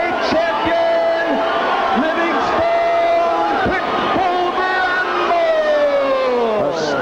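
A large pro-Mancini boxing crowd at the War Memorial Auditorium in Buffalo, New York roars loudly and continuously after a lightweight title fight, with a ringside announcer's voice riding over the noise.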